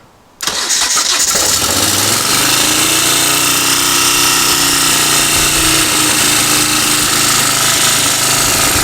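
A cold Moto Guzzi motorcycle engine, choke on, cranks and catches after a brief pause, then settles into a loud, steady, rough idle close by with no talk.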